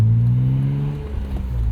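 A 1999 BMW Z3 M Roadster drives close by through a small city, its engine note steady and then easing off, with a whirring mechanical drone over low rumble.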